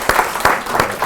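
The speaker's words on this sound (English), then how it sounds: "Can we have a quick round of applause" An audience at a digital marketing festival panel gives a brief burst of clapping, with a few sharp, distinct claps standing out over a soft crowd wash.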